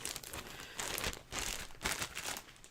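Paper is crinkled and cut apart close up in quick bursts of rustling and crackling, with short pauses between, no voices.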